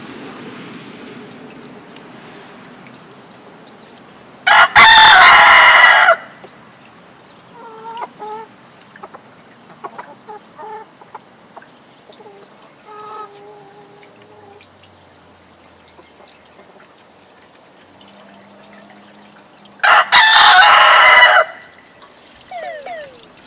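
Chickens cluck softly in short scattered bursts, interrupted twice by loud, harsh bursts of noise that dominate for a second or two, beside a newly installed automatic chicken waterer.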